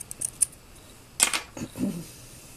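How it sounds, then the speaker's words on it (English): Small nippers snipping through knitting yarn: a couple of faint clicks, then a sharper close snip followed by a softer second cut, brief and quiet. "I'm going to cut that with my little nippers."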